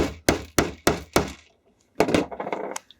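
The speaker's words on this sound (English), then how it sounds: "Put your tool down on it and hammer it." A hammer strikes a snap setting tool seated on a snap: four sharp, evenly spaced thuds, a brief pause, then a quicker cluster of blows, close and loud with no talk.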